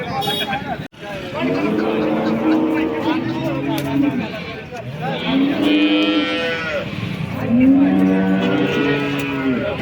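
Several cows moo loudly in long, drawn-out calls at the Modnimb cattle market near Solapur, over a murmur of crowd chatter and background noise.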